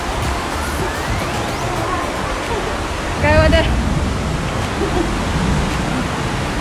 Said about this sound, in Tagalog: Grabe yung buhos ng ulan din.